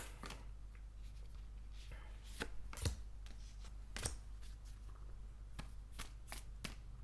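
Tarot cards shuffled and drawn by hand, heard as a steady series of soft riffling and slapping bursts with a few sharper snaps, close and fairly quiet, with no talking.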